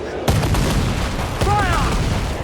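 Ship cannons boom in two heavy volleys during a sea battle in Assassin's Creed IV Black Flag, each a sharp loud blast with rumbling tail, a shout rising briefly between them.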